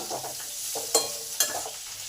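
Potato pieces fry in a pan, coated with salt, turmeric and cumin, a close sizzle broken by scraping stirs and two sharp spatula clacks, no talking.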